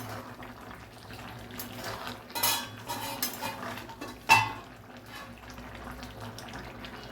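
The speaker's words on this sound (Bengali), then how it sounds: "ঢাকনা খুলে একটু দেখে নিচ্ছি।" A metal lid clinks and rattles off a cooking pot of jackfruit and prawn curry, with scattered utensil knocks and one sharp clang amid a low steady kitchen hum, no talk.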